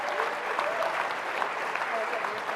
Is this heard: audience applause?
yes